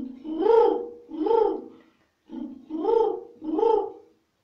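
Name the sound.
child imitating a pigeon's cooing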